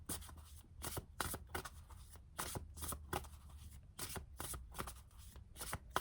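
A deck of cards being shuffled up close, repeated riffling bursts in a steady rhythm, quiet and alone with no talking.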